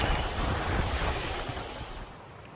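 Steady broadband rush of a river flowing through a hot, dry canyon oasis, loud and continuous with no voices, the wash evening out slightly toward the end.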